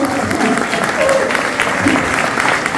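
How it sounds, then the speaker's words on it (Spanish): Audience applause at a travellers' talk about a round-the-world motorcycle trip, a steady dense clapping from a crowd filling the room, with faint voices mixed in underneath. "Así que un aplauso para ellos."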